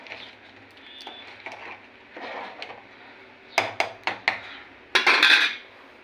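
Jaggery is stirred into rice pudding in a pot, heard as a soft low simmer under sharp metallic spoon knocks and scrapes against the pot's rim. The clinks come in a quick cluster, and a louder rattle follows near the end.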